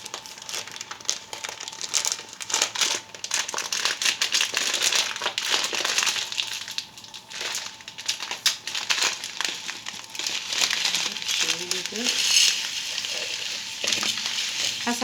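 Dry vermicelli pours out of a crinkly plastic bag into a pot with melted ghee, giving steady loud rustling and pattering for several seconds, then softer crinkles and stirring near the end.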